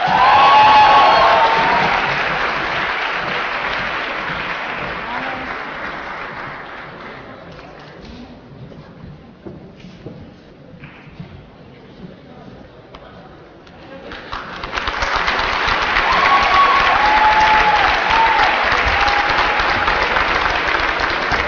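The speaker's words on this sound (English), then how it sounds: "A big applause for all our graduates, the 2017 class" Audience applause and cheering for the 2017 graduating class at a university undergraduate commencement, a broad crowd roar that fades to a quieter murmur midway and then swells loudly again, with faint bird coos in the background.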